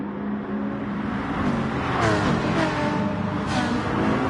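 A Porsche race car engine in Gran Turismo Sport roars steadily at high revs during close racing at Dragon Trail Gardens, with a continuous loud drone and slight pitch shifts through the corner.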